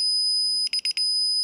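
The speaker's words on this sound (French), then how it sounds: "Le système émet une tonalité continue pour indiquer qu'il doit être immédiatement désarmé." A DSC PowerSeries 9045 alarm keypad sounds its entry delay warning as a quick burst of four sharp, high-pitched beeps, loud and close, with near silence around them.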